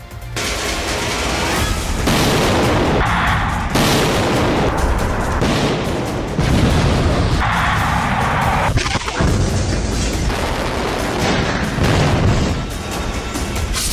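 Explosions from Israeli air strikes in the Israel-Iran war, a dense, loud barrage of booms and sharp blasts. Bursts follow each other in rough blocks with heavy low rumble and abrupt changes between them.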